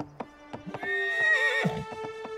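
A horse gives a long, loud whinny, with brisk clip-clopping hooves knocking before and after it. The sounds are close and clear, and no one speaks.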